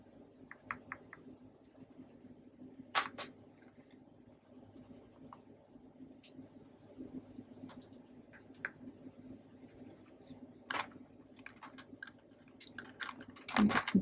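A watercolor pencil making straight marks on paper for a mixed media tag, heard as faint, close scratchy strokes in short bursts, separated by quiet pauses and a few light taps.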